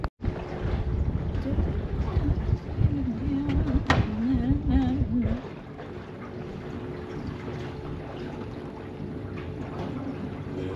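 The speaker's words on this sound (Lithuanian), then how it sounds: "Labai pučia. Ir banguoja, ir pučia." On a boat on choppy water in Giethoorn, Netherlands, wind buffets the microphone in a loud low rumble for several seconds, with a sharp knock midway, then eases into a quieter steady rush.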